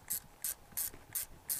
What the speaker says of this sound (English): Ratchet that in.